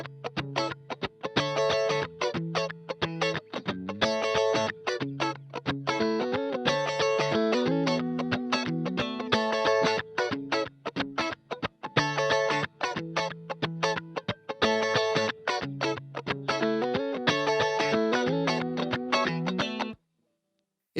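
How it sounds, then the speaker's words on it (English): A new guitar part is added on the back half of a final chorus, bright rhythmic funk lines riding a full, driving band mix for about twenty seconds before stopping abruptly. "Cory gives us one new part on the back half of that final chorus"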